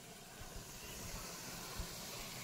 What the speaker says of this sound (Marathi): तुम्ही फ्रेंड्स आवाज ऐकू शकता कसं एकदम चरचर आवाज येतोय